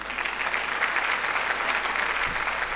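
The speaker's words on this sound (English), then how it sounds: "Don't you think we need a big round of applause for that?" A big conference audience breaks into loud, sustained applause, a thick wash of clapping that holds steady throughout.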